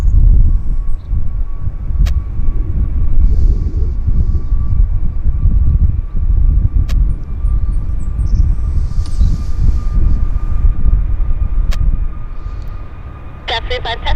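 An airliner throttling up on the runway at Vancouver Airport, a loud, continuous engine roar filling the whole stretch, heard from outside with occasional clicks and faint radio chatter mixed in.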